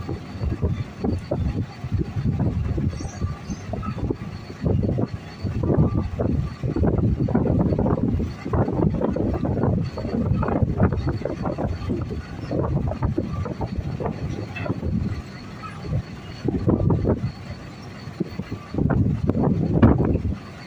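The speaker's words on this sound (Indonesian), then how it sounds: "Ini anginnya kenceng ya." Strong wind blows at a ship boarding area, a loud, continuous buffeting roar that pounds the microphone in irregular gusts throughout.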